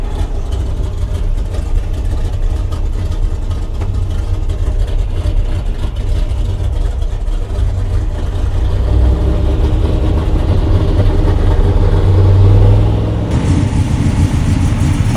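A 1959 Ford F100 pickup with a 572 Boss Nine V8 rumbles loudly at close range, its deep engine note building as the truck pulls away, with no talk over it.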